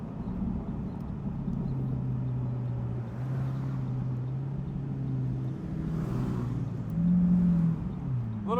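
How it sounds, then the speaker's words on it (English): A 2015 Lamborghini Aventador Roadster with its exhaust opened up in Corsa mode drones steadily while cruising, the engine note shifting in pitch and swelling louder near the end, heard from inside the car. "We're gonna get it over into Corsa mode, which opens up the baffle and the exhaust system, and really get to hear this thing"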